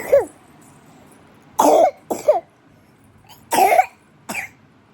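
A child coughs in short fits, several harsh coughs spaced over a few seconds, close and fairly loud against a quiet room.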